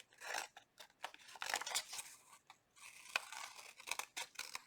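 Scissors snip through paper for a handmade journal, making a close run of crisp, uneven cuts and rustles that come in short bursts with brief gaps.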